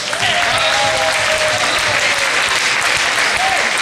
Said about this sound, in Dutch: ik vind dus echt wel dat er even een groot applaus mag voor deze sfeer